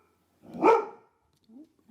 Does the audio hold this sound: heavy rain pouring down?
no